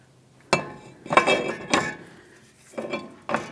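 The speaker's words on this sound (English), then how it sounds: "Assuming everything looks good, let's go ahead and put the rotor on." Metallic clanks and clinks as a brake rotor is fitted onto the wheel hub of a 2002-2005 Ford Explorer, several sharp knocks spaced irregularly in a quiet workshop.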